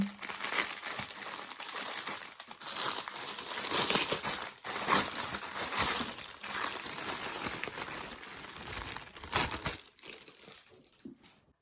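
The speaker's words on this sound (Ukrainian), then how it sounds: "щоб багато не шелестіти цим пакетиком, зараз я висиплю стрази на стіл" Close, steady crinkling of a plastic bag, followed by a brief rattling spill of diamond-embroidery rhinestones onto a table, then quiet.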